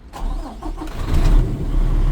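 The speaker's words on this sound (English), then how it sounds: "I don't have to synchronize the truck no more, just start the truck." A class A truck's engine starts in the cab with the valves out and the key already on: a brief crank, then the engine catches and settles into a loud, steady idle rumble.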